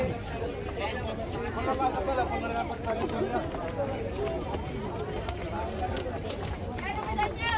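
Crowds of pilgrims on the bridge at Har Ki Pauri in Haridwar, a dense, constant murmur of many voices and shuffling footsteps, with a nearby voice talking over it.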